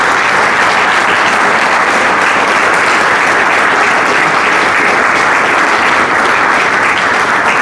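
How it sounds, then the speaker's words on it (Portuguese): Loud, dense applause from an audience at a Chega party event in Cartaxo presenting candidates for the 2025 local elections. The clapping stays steady and unbroken, with no voices standing out. "gostaria de uma salva de palmas para o Miguel Ribeiro, fundador do Partido C"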